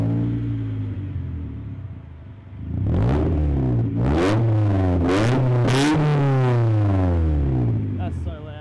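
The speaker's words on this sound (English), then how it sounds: "So Jim has an mx5, big fat catback" Mazda MX-5 fitted with a big, loud catback exhaust, revving hard in a series of sharp blips that rise and fall, loud and close, over a steady idle rumble.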